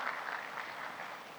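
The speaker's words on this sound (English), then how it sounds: "I think he deserves a big round of applause." An audience at an indoor industry conference session applauds, a soft, even patter of clapping heard from some distance, with no voices over it.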